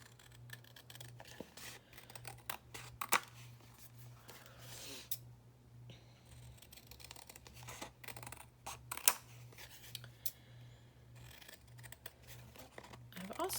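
Scissors snip around a paper crow cut-out for a journal collage, giving soft, irregular cuts and rustles at a close, quiet level over a steady low hum.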